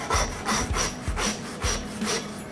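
A lamb saddle is split down the spine during carcass butchery, giving a steady series of about five rasping sawing strokes, close and fairly loud, with dull low thumps between them.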